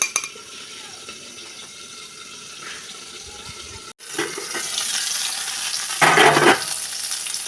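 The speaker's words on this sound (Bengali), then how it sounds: "দেখুন, পটলগুলো সুন্দর ভাজা হয়ে গেছে" Pointed gourd (potol) slices fry in oil in a home kitchen, a soft sizzle that jumps louder after a brief cut, with a burst of splashing or running water near the end.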